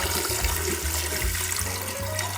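Four litres of cold water poured into a pot over salt, peppercorns and bay leaves for tripe soup, a steady rushing gush with low gurgling, close and continuous.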